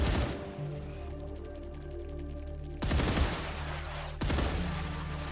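Rapid automatic gunfire from StarRupture, a bursting volley that cuts out, then two more short heavy bursts follow with loud booming impacts.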